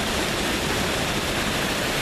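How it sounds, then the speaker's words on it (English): Water pours steadily down a waterfall at Elliot Creek, a dense, unbroken roar heard close up beside a small pond, with no voices. "And then there's the waterfalls here."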